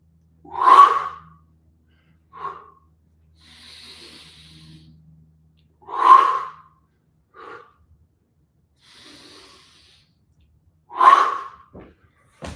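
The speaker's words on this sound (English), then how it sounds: "Inhale through your nose. Strong exhale through your mouth." Deep breaths during a post-workout cooldown, drawn in through the nose and pushed out hard through the mouth: three strong, close exhales about five seconds apart, with softer inhales between them and no talking.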